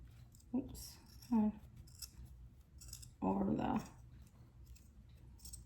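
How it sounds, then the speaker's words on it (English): Pinking shears snip through fabric for a zippered pouch, giving a few separate crunchy cuts, the loudest a longer chomp near the end, close and moderately quiet, with someone talking between the cuts. "I like to just do my fabric with the pinking shears because that helps not to fray."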